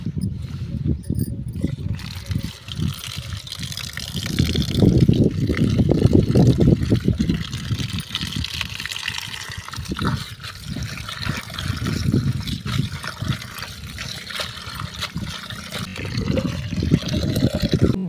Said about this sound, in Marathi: तर ही भाजी आता आपण 2 पाण्याने धुवून घेऊया.